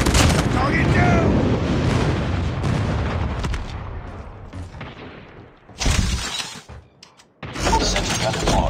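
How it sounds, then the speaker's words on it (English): Call of Duty multiplayer battle with airstrike explosions: heavy booming blasts and rumbling debris at first, fading down, then sharp bursts of gunfire and impacts, with in-game voice callouts mixed in. "Friendly airstrike incoming."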